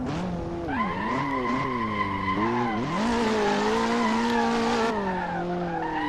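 A toy race car drifts in a Hot Wheels video game, with continuous tire squeal and whining engine tones that rise and fall through long slides and no voices.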